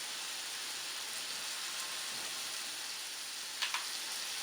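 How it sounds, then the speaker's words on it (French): Sugar and butter caramel sizzles steadily in a frying pan for a papaya tarte tatin, a dense continuous hiss close up with a couple of faint clicks near the end. "Et vous entendez là? Regardez le caramel, comment il a durci."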